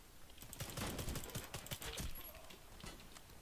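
Rapid automatic gunfire from an AS VAL rifle in the shooter game Warface rattles in quick bursts of sharp cracks, fairly faint and steady throughout.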